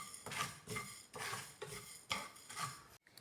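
Cloves, black pepper and fenugreek seeds are stirred in a pan as they warm, a utensil scraping in rhythmic strokes about every half second, quiet and close.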